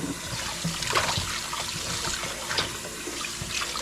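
Raw chicken is washed by hand in a sink or bowl of vinegar water, making steady sloshing, splashing and trickling close by with no talk.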